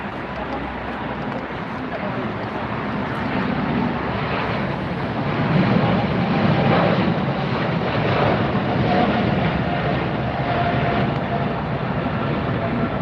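A Qatar Airways Airbus A350-1000 jet at LAX produces a continuous, broad engine roar that swells gently midway, with a person talking over it.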